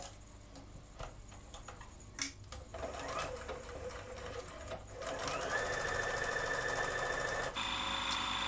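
A domestic sewing machine stitches a jumpsuit seam, running in short bursts of rapid ticking at first, then settling into a steady, close, continuous whir with no talk.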